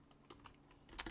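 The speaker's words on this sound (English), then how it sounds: "I'll just type it in then" Someone types on a computer keyboard in a quiet room, with a few soft, close key taps in a brief irregular run ending in a slightly louder clack.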